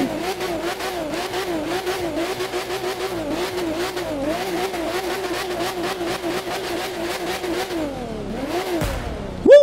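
A Porsche Speedster engine in The Crew 2 racing video game revs continuously with rising and falling pitch, loud and close, ending in a sharp pop.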